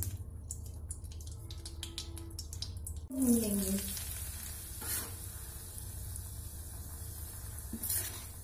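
A wooden or metal spoon stirs wheat flour and ghee in a kadhai while making laddus, a soft scraping swish with light sizzling. The stirring sits mid-loud and close, with a brief louder scrape near the middle and another toward the end.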